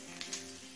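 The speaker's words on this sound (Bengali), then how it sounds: "জিরে তেজপাতাটা 30 থেকে 40 সেকেন্ড সময় নিয়ে লাল করে ভেজে নিয়েছি" Cumin seeds and two bay leaves fry in hot mustard oil in a kadai, giving a short, steady close sizzle with a couple of faint crackles and no voices.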